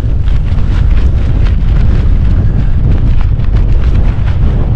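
Strong gusts buffeting the microphone while wild camping on Hen Mountain, a loud, continuous low roar and thumping rumble filling the whole clip.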